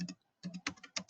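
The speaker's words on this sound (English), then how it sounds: "Pardon my typing." Keys clack on a computer keyboard in a short burst of typing, several close, crisp taps in an uneven rhythm, with no speech.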